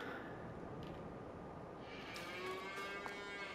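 In Farming Simulator 22, a game cow gives a long, drawn-out moo, fairly faint and set back over a continuous background hiss, with no talking over it.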